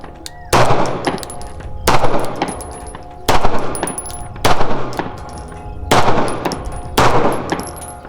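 Six loud gunshots from a cheap 2011 pistol, fired at a target 200 yards away, spaced about a second apart with ringing tails and faint metallic clinks between them.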